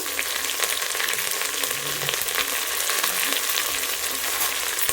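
Curry leaves crackle in hot oil over a high gas flame for a Mysore brinjal curry, a dense, continuous sizzle close up with no talking.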